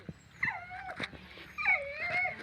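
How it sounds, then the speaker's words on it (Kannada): A tied-up dog whimpers and whines in two drawn-out, rising and falling cries close by, with a short pause between them and no talking over them. "ಕಟ್ಯಾಕಿದಾಕ ಹೆಂಗೆ ಮಾಡ್ತಾವ ನೋಡ್ರಿ ನಾಯಿವು"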